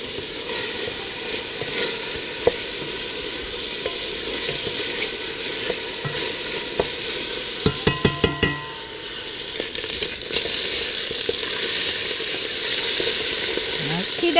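Lamb meat frying in a hot pan for a stew: a steady, loud sizzle throughout, with a few clinks of utensils and a brief stirring flurry midway before the hiss swells again.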